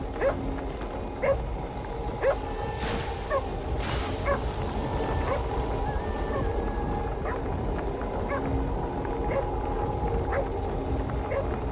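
A dog barks repeatedly in short yips and whimpers, fairly close, over a steady background hum with no talking.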